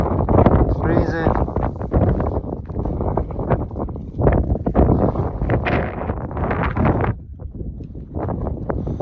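Strong wind buffets the microphone at Everest Base Camp, a continuous loud roar under people talking close by throughout.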